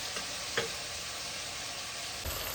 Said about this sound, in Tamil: இந்த வெங்காயம் அரை வதங்கினா போதும்